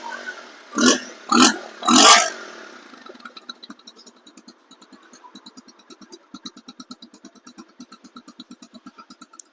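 A second-hand 2020/21 Bajaj Pulsar motorcycle engine is revved loudly three times up close, then drops into a steady idle with quick, even thumping pulses. No talking.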